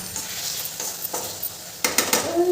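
Spice masala stir-fried in hot oil crackles steadily, with a few sharp scrapes and clinks of a spatula against the pan toward the end, close up and without talk.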